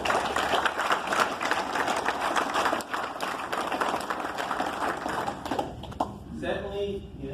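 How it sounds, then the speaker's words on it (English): An audience gives a round of applause for a USAF squadron team during a general's speech: dense, steady clapping that fills the room for several seconds, then thins out and fades near the end. "So just a round of applause for the team here."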